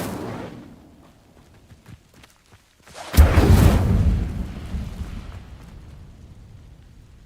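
An Incendio fire spell ignites dry vines in Hogwarts Legacy, a sudden loud whooshing burst of flame that roars and then slowly fades, after a quiet lead-in.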